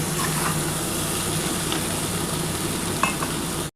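Spice paste with soybean chunks, papaya, potato and tomato fries in a pan after a splash of hot water, giving a dense, even, close sizzle that runs unbroken before stopping abruptly.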